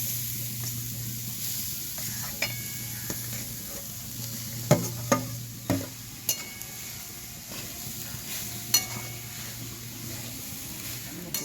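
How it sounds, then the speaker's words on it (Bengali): Grated coconut being stirred in a hot wok gives a soft steady sizzle with a low hum beneath, punctuated by occasional light scrapes and clinks of the spatula against the metal. "নারকেল কোড়াটা দেওয়ার পর আমি ভালোভাবে নাড়াচাড়া করে নিয়েছি।"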